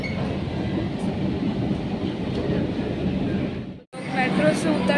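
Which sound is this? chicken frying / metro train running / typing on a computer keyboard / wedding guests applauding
metro train running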